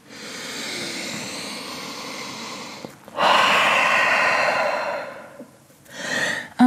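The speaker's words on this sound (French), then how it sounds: "Grande respiration." Deep yoga breathing during a Vinyasa sun salutation: a long, drawn-out inhale followed by a louder, rushing exhale, then the start of another breath, all close and with no talking.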